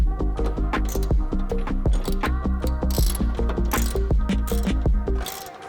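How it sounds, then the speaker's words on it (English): A hand ratchet tightening T-nuts during a GFC Superlite mount, a rapid steady series of close metallic clicks that continues for several seconds and then stops. "Then we're going to take our ratchet and then tighten them evenly."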